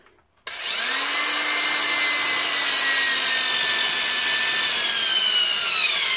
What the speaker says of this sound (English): I'm just going to go ahead and drill them out.